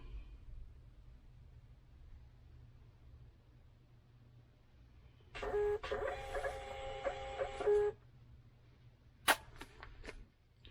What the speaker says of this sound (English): I've got a Bluetooth printer right here. It's a Munbin printer.